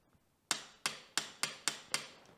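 A torque wrench tightens the rear brake lever bolt on a Yamaha YZ 250FX dirt bike to 19 foot-pounds, giving six sharp, close metallic clicks at a quick, slightly uneven pace in otherwise quiet surroundings.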